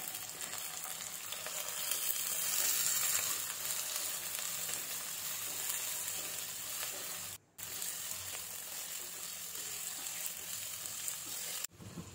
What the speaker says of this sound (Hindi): बस मैंने इसे चम्मच की मदद से हिलाते हिलाते कुक कर लिया है